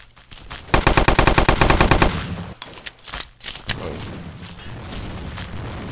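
Rapid gunfire from an M700 rifle in the shooting game Blockade 3D on a lab map, a loud dense burst of shots lasting over a second, followed by scattered clatter and a few sharper reports.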